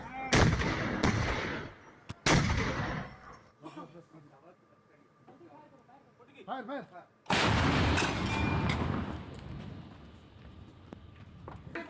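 Gunfire at the India-Pakistan Line of Control: sharp, loud blasts come in several separate bursts, the longest near the end, with quieter gaps and a voice between them.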